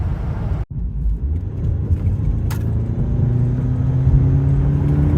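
A car engine strains at full throttle, pedal to the floor, with reduced power and water inside the engine. It is a loud, steady, bogged-down rumbling drone with a brief dropout early on, then a rising whine.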